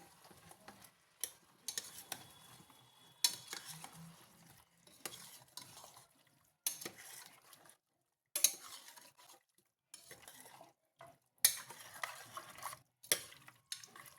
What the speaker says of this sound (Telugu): ఒకసారి బాగా ఆయిల్లో ఫ్రై చేసుకుందాం ఒక రెండు నిమిషాల పాటు ఇలా ఫ్రై చేసుకున్నాను